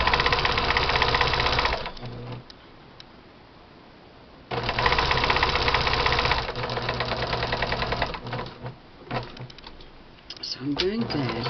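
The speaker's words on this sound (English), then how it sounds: "I'm just going down and sewing first, sewing the right sides together like a tube." A sewing machine stitches the right sides of fabric together into a tube for luggage tags, running in long steady loud bursts with pauses while a person talks over and between them.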